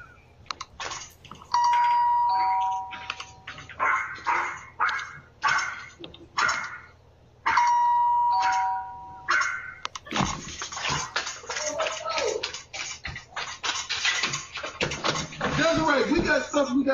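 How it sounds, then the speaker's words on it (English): A Ring doorbell camera chime rings out loud and near twice, several seconds apart, each a short melodic tone sequence, and people then talk and move about indoors. "Ring doorbell camera?"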